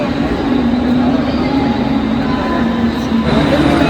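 A railway station platform carries a constant loud rumble of rail traffic with a steady low hum and tonal whine throughout, and voices murmur faintly in the background.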